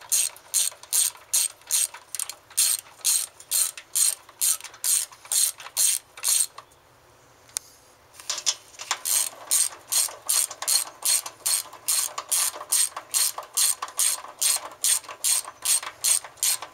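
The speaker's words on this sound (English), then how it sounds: "we'll finish tightening them down with a half-inch wrench" A half-inch ratchet wrench tightens bolts mounting an aluminum throttle body to its adapter, giving rapid, loud, evenly spaced pawl clicks in steady bursts, with a short pause midway before the ratcheting resumes.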